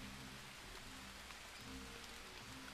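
Steady rain falling in the jungle survival game Green Hell, a dense, continuous patter that stays even and close throughout with no voices over it.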